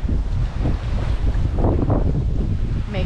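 Wind rushes steadily over a sailboat at sea, a loud, constant roar of microphone buffeting mixed with the wash of water, with no talk.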